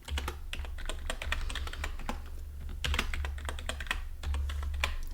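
A password goes in on a computer keyboard as a run of quick, fairly soft key clicks in irregular bursts, heard alone and close.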